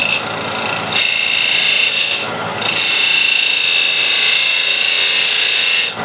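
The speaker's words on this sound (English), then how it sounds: "And I'll use a spindle gouge" A spindle gouge cuts wood on a lathe, shaping a shoulder at the corner of a flash drive heirloom box: a steady, close, bright hiss and rasp that runs continuously, with two brief dips before the cut settles back in.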